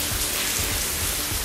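Steady rain pours down outdoors, a loud, dense hiss of drops hitting surfaces with no break, close and continuous.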